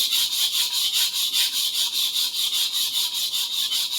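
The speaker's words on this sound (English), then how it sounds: "This is a 140 grit Atoma diamond plate, very good for repairs and for rebeveling." A sujihiki knife blade is being restored on a coarse 140 grit Atoma diamond plate, with a steady, rhythmic gritty scraping of strokes going back and forth at close range.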